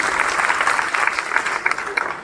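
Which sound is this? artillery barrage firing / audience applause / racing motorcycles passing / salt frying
audience applause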